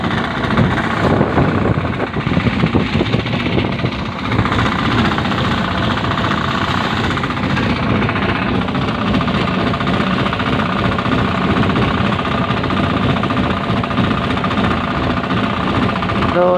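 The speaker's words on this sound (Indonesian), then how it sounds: "Ini juga ada kapal nelayan KM Pelangi yang berangkat di Sudari" The engine of the fishing boat KM Pelangi chugs in a rapid, knocking rhythm as the vessel departs, a dense vibrating drone that runs continuously and fairly loud for the whole stretch, with faint voices now and then.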